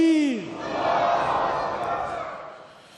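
A large crowd at the Jalsa Salana UK 2025 gathering roars a collective chant in reply to a takbir call, a loud, swelling mass of voices that rises then slowly fades, following a single voice at the start.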